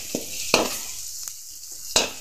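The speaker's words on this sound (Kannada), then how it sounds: "ಈಗ ಹಸಿಮೆಣಸು ಹಾಕಂಬ. ಚೂರು ಫ್ರೈ ಆಯ್ಲಿ." Green chillies sizzle softly in a hot pan, a faint steady frying hiss broken by a few sharp scraping clicks as they are stirred.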